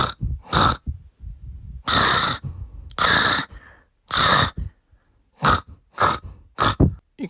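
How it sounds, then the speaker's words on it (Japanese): A husband in an animated cartoon snores in loud, close bursts grouped in a Morse code SOS rhythm: short snorts, then three longer ones, then more short ones, with silent gaps between them. "これただ、いびきかいてるだけじゃないのよ"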